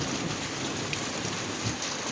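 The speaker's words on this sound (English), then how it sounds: "There's the thunder again and the lightning." Heavy rainstorm over a vegetable garden, steady loud hiss of rain falling on surfaces with a low, deep rumble of thunder beneath it, no voices.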